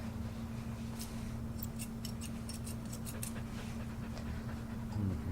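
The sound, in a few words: curved scissors trimming loose dog hairs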